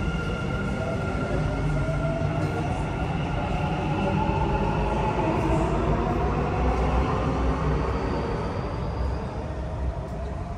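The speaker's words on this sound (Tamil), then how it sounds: "இப்போ பாருங்கள் அந்த ட்ரெயின் போகுது." A driverless Dubai metro train passes nearby, giving a steady rolling rumble with a high whine across its length and easing slightly at the end, with no talk over it.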